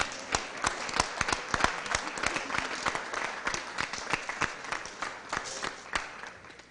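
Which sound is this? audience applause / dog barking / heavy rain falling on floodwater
audience applause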